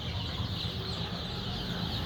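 Sonali and native deshi chicken chicks, about 200 grams and lively, make a steady, dense cheeping and clucking that runs throughout without a break, close and moderately loud.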